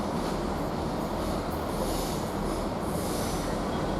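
Freightliner 66540 freight train arriving at Basingstoke station, a broad continuous rumble of rolling wagons and wheels on rail, steady and moderately loud with no voices.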